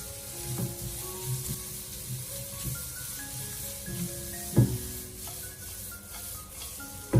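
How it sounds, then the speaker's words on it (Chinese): Shredded carrot stir-fries in a wok with a steady, close sizzle. Spatula scrapes and tosses land at irregular intervals, with a sharper clatter near the end. "我们给它持续的翻炒一小会，大概是2-3分钟左右，先把胡萝卜丝炒软炒香"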